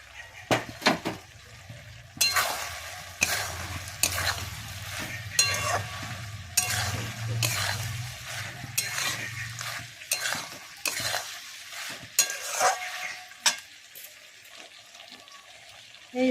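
Soybean chunks are stirred through a thick, reduced sauce in a pan, with a spatula scraping and clinking against metal in bursts over a continuous low sizzle. No one speaks.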